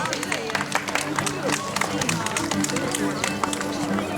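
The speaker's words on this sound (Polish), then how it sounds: "Brawa!" A crowd at an outdoor knight tournament applauds between announced fighting pairs, a dense, lively patter of many hands with murmuring and voices mixed in throughout.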